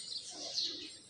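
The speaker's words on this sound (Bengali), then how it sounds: "সকালবেলা হলে পাখিদের ডাক, এই এই ডাকটা কিন্তু অনেক সুন্দর।" Birds call on a cold, foggy winter morning, giving a few faint, high chirps and tweets at a distance with no voices.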